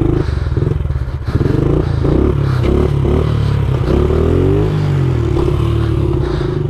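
A pit bike engine revs hard and close during a wheelie, its loud buzzing note rising and falling in pitch as the throttle is worked.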